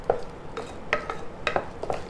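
A spoon stirs almond halwa coloured with saffron in a bowl, giving a series of close scraping clicks at an uneven rhythm with no talk.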